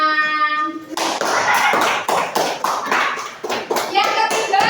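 A classroom of children claps in quick rhythmic bursts after a short spoken or sung phrase, the patterned clapping close and loud, with children's voices mixed in.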